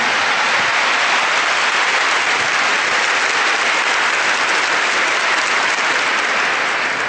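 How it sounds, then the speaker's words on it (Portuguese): Loud, dense applause from a church congregation praising the Lord during a Catholic sermon, a steady unbroken wash of clapping that fills the whole stretch without pause. "Give the Lord a big clap for Um that"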